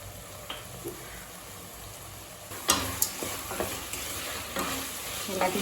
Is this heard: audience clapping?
no